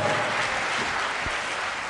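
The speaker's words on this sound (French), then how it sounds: "Sous vos applaudissements, bien sûr." Audience applause at the finale of a televised quiz game show, a thick continuous wash of clapping at even loudness across the whole stretch, close and full with no voices over it.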